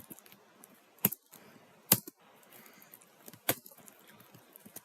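Sparse keystrokes on a computer keyboard: a few sharp, louder clicks among soft, quick taps. The typing is close-up, fairly quiet and has no talking.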